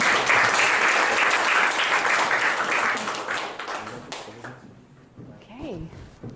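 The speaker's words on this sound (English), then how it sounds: "we're going to use a round of applause to welcome our panelists to the" An audience applauds to welcome panelists onto the stage at a London startup event on entrepreneurial wellbeing. The clapping is loud and full, then fades out after about four seconds as a voice starts speaking.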